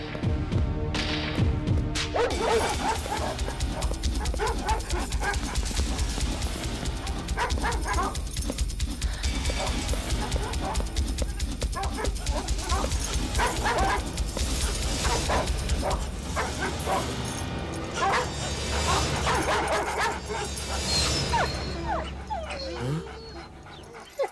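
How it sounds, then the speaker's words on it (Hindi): Dogs set loose to chase someone in a Hindi-dubbed South Indian action film scene bark, yip and whimper loudly, mixed with thuds over a busy soundtrack for about twenty seconds. "इसके पीछे कुत्ते छोड़ो।"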